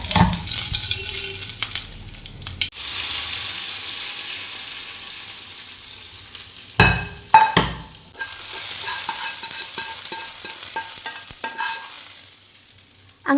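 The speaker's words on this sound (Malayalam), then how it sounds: "വെളിച്ചെണ്ണ ചൂടായി വന്നിട്ട് കടുക് പൊട്ടിച്ചതിന് ശേഷം ഞാൻ കറിവേപ്പും വറ്റൽമുളകും ഇട്ടിട്ടൊന്ന് പിന്നെ വറവ് ചെയ്തിട്ട്" Mustard seeds, curry leaves and dried chillies fry in hot coconut oil, a steady close sizzle with scattered popping crackles, interrupted midway by a couple of louder bursts of spattering before settling again.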